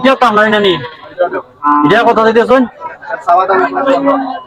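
Nepali breed cow at a busy cattle market, three loud, drawn-out harmonic moos in quick succession close by, with faint crowd babble underneath.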